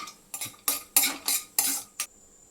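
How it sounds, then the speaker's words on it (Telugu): Chopped cashews and almonds hit hot ghee in a kadai with several short, crisp bursts of clatter and scraping, close and fairly loud, about six separate stir-like strokes with brief pauses between, no voices. "వీటిని వేసుకొని ఫ్రై చేసి తీసుకుంటాను."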